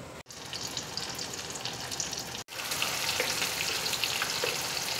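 Ground spice paste frying in ghee on a flat tawa, a soft continuous crackling sizzle that cuts out briefly twice and returns a little louder, heard up close without any talking.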